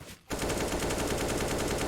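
In a Counter-Strike-style game match, a rifle spray bursts out after a brief lull, a loud and rapid string of automatic gunshots.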